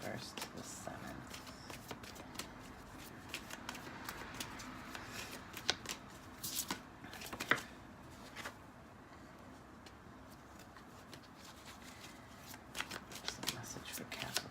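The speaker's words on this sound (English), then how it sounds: "Cards are stiff." Stiff tarot cards being shuffled by hand in repeated crisp riffling bursts and soft slaps, close and fairly quiet, with a voice murmuring faintly at times.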